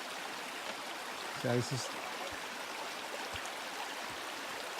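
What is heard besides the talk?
mountain creek water flowing, Junction Creek, Tasmania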